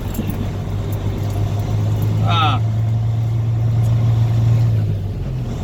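A car on the road to Chicago drives along with a steady engine drone and road rumble throughout, and one brief squeak rises partway through.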